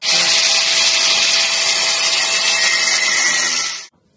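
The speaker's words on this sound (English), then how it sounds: "slice through the middle of it so both sides of the nut fall off" A power tool cuts through a chewed wheel nut on a vintage caravan axle, a loud continuous high-pitched whine and grind lasting nearly four seconds before abruptly stopping.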